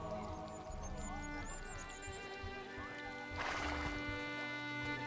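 A horse in Assassin's Creed Brotherhood gives a high whinny at the start, then a louder snort-like burst near the end, amid game ambience with hooves faintly clopping.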